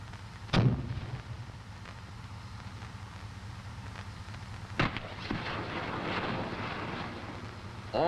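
An M551 Sheridan fires a full eight-rocket salvo outdoors, a sharp heavy blast followed by a second loud report several seconds later, with rumbling wind and distant aircraft-like roar between and after.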